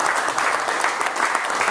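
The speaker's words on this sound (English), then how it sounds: "Can I get a round of applause for our special guest?" Brief burst of loud audience applause for a special guest at a Red Bull Music Academy info session in Tampa, thick and close, with many hands clapping at once.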